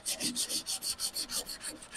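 Sandpaper works over the body of a 1962 Ford Falcon in quick, even back-and-forth strokes, about four per second, each a soft rasping swish at close range with no voices.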